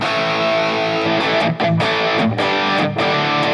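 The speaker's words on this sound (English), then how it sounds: "Turn on the tube screamer." Electric guitar driven through a Tube Screamer overdrive pedal on a Tone Master Pro, loud sustained distorted chords with a few brief cut-offs and re-attacks, played alone.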